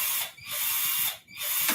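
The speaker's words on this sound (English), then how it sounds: "Apply pressure, low RPM, and then you drill." An air drill bores into an aircraft structures test plate at low speed, giving a close, bright whir in three short bursts with brief pauses between them.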